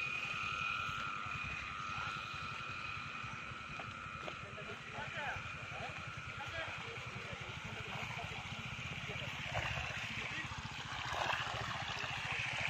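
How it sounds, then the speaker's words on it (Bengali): Dense chorus of frogs croaking continuously in a muddy cucumber field at night, loud and close with a trickle of water beneath, no talk over it. "ব্যাং ডাকছে কেমন ক করে"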